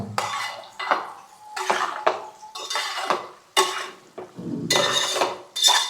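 Curry in a pot is stirred with a metal spoon: repeated rhythmic scraping and clinking strokes against the pot, each a short burst separated by brief pauses, close and clear.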